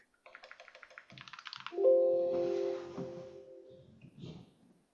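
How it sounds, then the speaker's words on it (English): Keystrokes clatter in a quick, uneven burst at close range, breaking off as a steady tone rises and holds for a couple of seconds, with faint clicks resuming after it fades. "There's somebody typing."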